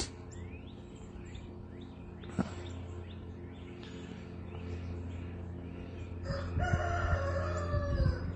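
Rooster crowing outdoors on a calm early morning at sunrise, several drawn-out calls coming from mid-distance, the last one louder and nearer, over a steady low hum with occasional faint clucks.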